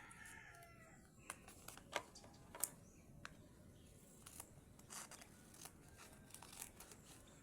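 Scissors snip through paper in a series of sharp, separate clicks and cuts, fairly quiet and close, with faint background noise in between.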